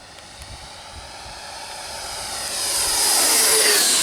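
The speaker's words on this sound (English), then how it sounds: "Now I will do the fast flyby, Captain Blush." Taft Hobby Viper Jet V3, a 90mm EDF model jet with a 1.5 m span on 6S power, makes a fast full-throttle flyby. Its high-pitched ducted-fan whine swells steadily louder as it approaches, peaking near the end.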